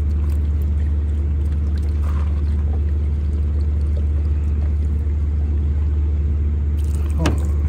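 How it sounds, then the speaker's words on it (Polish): A car engine running after being replaced, idling steadily with a loud, continuous low rumble and no talk over it. "ten silnik po wymianie chodzi"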